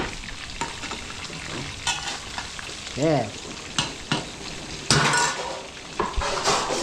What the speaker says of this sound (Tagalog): kumukulo pa rin.